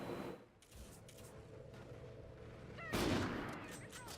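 Gunfire rings out in a first-person shooter video game: a faint, sustained crackle of firing followed by one louder, sharper blast near the end, without speech.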